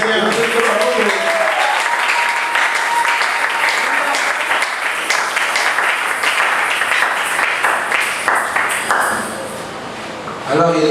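A church congregation bursts into sustained applause and clapping during a French-language sermon, loud and dense throughout, with voices calling out over the clapping before it thins near the end.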